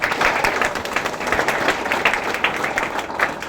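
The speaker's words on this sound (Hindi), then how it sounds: "एक बार सभी के लिए जोरदार तालियां" Steady, fairly loud applause from a seated audience at a business plan presentation, dense clapping continuing evenly for a few seconds without talk.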